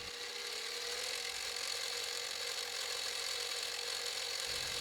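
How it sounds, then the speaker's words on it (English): A tiny 1/16 inch end mill cuts a small head tube badge for a bicycle frame, giving a steady high-pitched grinding whir that runs continuously and close throughout. "Here's the tiny little 1/16 inch end mill."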